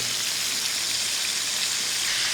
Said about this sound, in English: This is going to jump and splatter a little bit because of the water content of our meat.